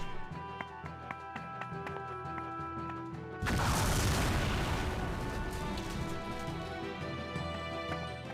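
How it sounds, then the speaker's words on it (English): An explosive barrel blows up in the Radiant Historia game: a sudden loud blast cuts in over quiet background music, then a long rumbling roar of debris that fades slowly. "The explosion ended up being more powerful than Stock had ever intended"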